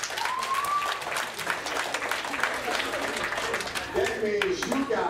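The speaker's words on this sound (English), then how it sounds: "So give yourself a big round of applause." Fifth grade students applaud at a middle school assembly, with loose scattered clapping and crowd noise running under an adult voice that talks over it.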